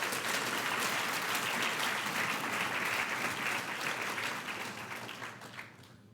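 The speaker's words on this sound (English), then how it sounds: "Please give one more round of applause to all of our newest R&R NCOs." Steady applause from a sizable crowd at a military NCO graduation ceremony, dense and continuous, gradually tapering off toward the end.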